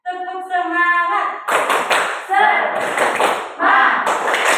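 A classroom of pupils performs a rhythmic spirit clap in bursts of loud, sharp claps with chanting voices mixed in, following a teacher's spoken count that opens the moment.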